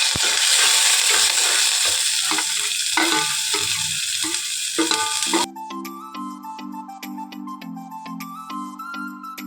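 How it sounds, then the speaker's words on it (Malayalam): Red chilies, onion, green chilies and curry leaves frying in hot oil, a loud dense sizzle with stirring scrapes for about five seconds, after which the sizzle drops away and music takes over. "ചുവന്ന മുളക് ഇട്ടിട്ട് ഒന്ന് ഇളക്കി കൊടുത്തിട്ട് ഈ സവോളയും പച്ചമുളകും കറിവേപ്പിൻ്റെയും കൂടി ഇട്ട് കൊടുക്കാം"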